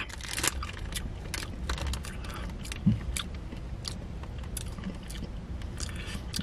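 Close, crisp crunching and chewing of crunchy gummy candy, with repeated bites and mouth sounds at a steady pace.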